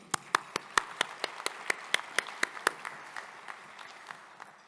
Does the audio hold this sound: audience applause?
yes